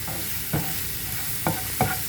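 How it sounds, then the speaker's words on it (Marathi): Onion sautéing in a pan for prawn pulao crackles in a constant close sizzle, broken by three spatula scrapes and knocks as it is stirred, with no voices. "कांदा टाकते आहे परतवण्यासाठी आपण हा कोळंबी पुलाव करतो आहे"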